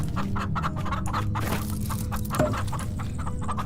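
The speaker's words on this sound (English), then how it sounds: "Look at all them chickens!" Flock of chickens in the farming video game Farm Together, overlapping clucks and soft cackles in a busy, steady chorus without speech.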